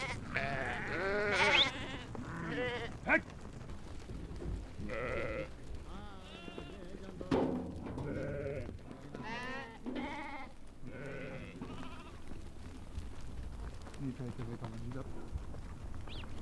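Sheep bleat repeatedly, several overlapping calls from a flock nearby, rising and falling over a quiet outdoor background.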